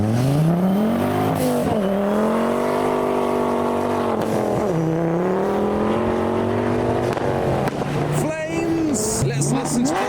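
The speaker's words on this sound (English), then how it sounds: "Let's listen to the raspy V8." A raspy modified V8 car engine revs as it pulls away from a car show in heavy rain, loud and close with rising and falling harmonic tones and brief throttle blips.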